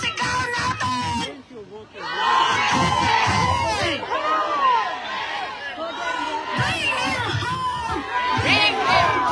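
Crowd of Filipino rally protesters in Melbourne shouting and cheering together, loud and continuous with overlapping voices and chants, briefly dipping before swelling again.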